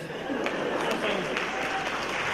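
An audience at a Ukrainian comedy league final applauding, a dense burst of clapping close by that fills the whole short stretch at a steady level.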